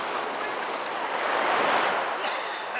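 Ocean surf washing in around a person standing knee deep in the water, a continuous loud rush of breaking waves with some wind buffeting, swelling in the middle and easing toward the end.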